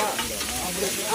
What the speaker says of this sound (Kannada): ಇಲ್ಲಿ ಮೀನ್ ಫ್ರೈ,